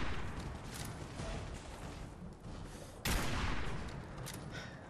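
Gunfire in the Fallout 4 video game, a dense continuous barrage of shots with a loud burst kicking in midway, steady and close throughout with no voices.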